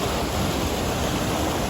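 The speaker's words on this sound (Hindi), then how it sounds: "और ये पानी जा रहा है घराट को।" Clear mountain stream water rushes toward a traditional gharat watermill in a Himalayan village, a loud, steady, close wash of flowing water with no voices.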